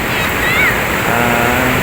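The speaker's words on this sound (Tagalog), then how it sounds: "maraming alon dito sa tabing dagat" Ocean surf at Norseman Beach in Binmaley, Pangasinan, washing steadily onshore as a continuous broadband rush under light wind, with a faint engine-like tone passing briefly in the background.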